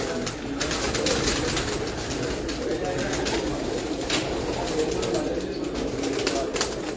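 Lightweight pigeons coo softly over a continuous backdrop of outdoor noise and murmured voices, the low throaty calls blending into steady ambient chatter.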